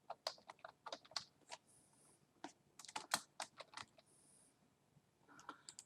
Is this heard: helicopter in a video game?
no